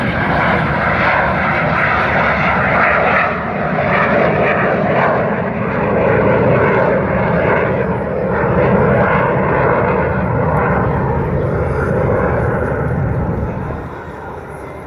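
An Alpha Jet performs at an air show, its loud jet roar sustained with brief dips and swells before fading slightly near the end.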